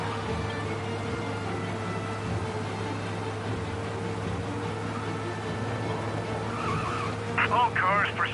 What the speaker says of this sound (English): You lose them by driving real fast and getting clear of them.